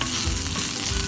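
Cashews frying in hot oil for a dragon chicken dish, a steady close sizzle and crackle with no talking.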